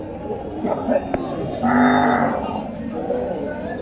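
A bullock lets out a long, deep moo up close, with other cattle and crowd murmur in the background of the busy Kuti Chowmuhani cattle market.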